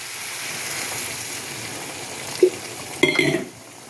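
Hot water goes into a pan of sautéed potatoes, bananas and prawns. A low, steady frying hiss is broken by a brief clink, then a short, louder burst of sizzling near the end before it dies down.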